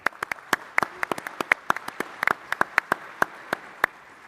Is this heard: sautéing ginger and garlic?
no